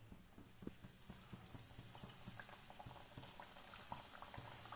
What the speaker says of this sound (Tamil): இது போட்டு எண்ணெயில் போடுறேன் பாருங்கள்,